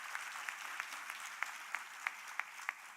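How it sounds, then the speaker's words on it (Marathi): An audience at a Khandesh Melava 2024 gathering claps steadily for a few seconds, a dense patter of many hands heard from some distance with a few sharper claps standing out, no voices over it. "एकदा सगळ्यांनी जोरदार त्याच्यासाठी टाळ्या वाजवा"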